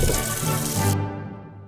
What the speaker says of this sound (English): Pour some of this water out.